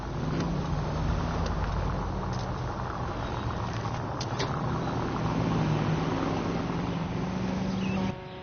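Car in the video game L.A. Noire driven fast, a steady loud engine roar with rising and falling revs and road noise throughout, cutting off just before the end.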